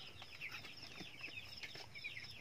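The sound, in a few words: chicks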